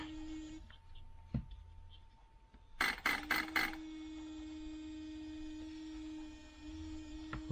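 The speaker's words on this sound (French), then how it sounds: "que le ventilo lui fait sale bruit" The cooling fan of a Hobbywing RC speed controller runs noisily with a steady whine and hum, broken by a quick rattling burst of clicks partway through.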